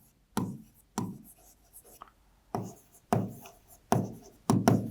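A pen scratches out a definition by hand on paper, in several quick close strokes separated by brief pauses, with faint breathy voice sounds between them.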